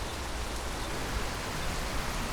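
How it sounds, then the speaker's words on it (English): Steady, dense patter of rain from the OMSI 2 bus simulator game, a continuous even hiss of drops on surfaces with no breaks, heard alone without talk. "there's obviously the rain sounds"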